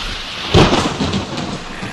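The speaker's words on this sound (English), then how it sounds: "Here comes the rain again" Thunder rumbles through a rainstorm, a deep roll swelling suddenly and then fading over a constant hiss of falling rain, loud and close, with no voices.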